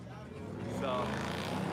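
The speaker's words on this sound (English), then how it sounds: "those are loud cars" Loud cars pass by on a street at a protest, a rising engine roar that swells and holds steady near the microphone, with people talking faintly underneath.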